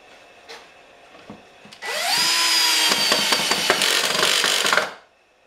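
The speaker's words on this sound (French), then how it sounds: "On visse en place." A power drill drives a screw into the wooden frame of a kitchen table, with a few faint knocks first, then a loud, steady whirring burst of about three seconds with rattling, ending abruptly.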